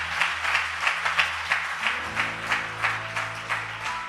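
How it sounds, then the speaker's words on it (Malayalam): A church congregation claps for a boy in a steady, rhythmic applause of many hands, fairly loud and even, lasting a few seconds. "ഒന്ന് ഇവനൊന്ന് കയ്യടി കൊടുത്തേര്."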